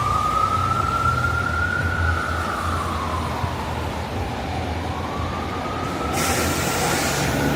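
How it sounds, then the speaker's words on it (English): An ambulance siren wails in a long rising and falling tone over steady New York City traffic rumble, loud and continuous throughout. "Some ambulance sounds for you as well."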